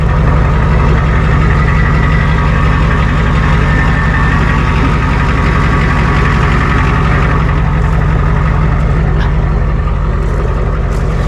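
A straight-piped Ford F350 truck with no muffler idling, a loud, steady low rumble with an even pulsing throb that holds constant throughout.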